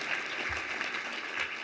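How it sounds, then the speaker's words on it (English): Audience at a housing awards luncheon applauding, a dense even patter of many hands held steady for a short stretch. "So let's have a round of applause for that."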